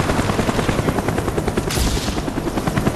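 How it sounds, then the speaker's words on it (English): A spy plane in Call of Duty Black Ops on the Nuketown map during a Domination match drones overhead with a steady, loud rotor-like buzzing that runs the whole stretch amid game effects. "Our spy plane's in the air."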